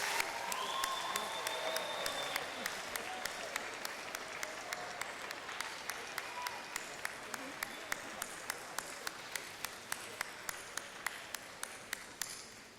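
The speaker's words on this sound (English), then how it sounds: "join me in giving a heartfelt round of applause and cheers" Convocation audience at a Brock University fall afternoon ceremony gives a long, steady round of applause and cheers, dense clapping filling the hall for the whole stretch, with regular faint pings ticking through it.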